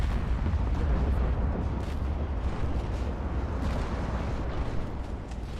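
Battleship secondary guns fire in an Ultimate Admiral naval battle, a dense continuous rumble of overlapping booms and blasts sustained at steady loudness throughout, with no speech.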